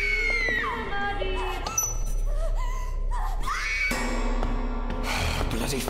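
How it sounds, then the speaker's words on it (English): In the video game Burnhouse Lane, a character screams and wails in pain, with rising and falling anguished cries layered over eerie tones and a low hum. "it's making you scream out loud in pain"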